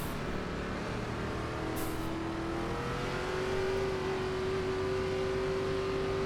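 ARCA Menards Series race cars at Lanier in iRacing, weaving to warm their tires, with a steady loud engine drone and a rising, sustained engine whine from the lead car, close and continuous.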